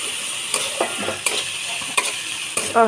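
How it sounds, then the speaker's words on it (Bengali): Spices frying and sizzling in a pan with stirring for a kosur loti and shak dish, a steady broadband hiss broken by a few sharp scrapes of the spoon, close and fairly loud, with no talk. "এখন মশলাটা বাজবো এর সাথে, অনেক গেরান আসবে।"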